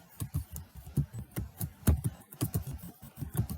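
Fingers type on a computer keyboard in a quick, steady run of close, crisp key clicks with no one talking.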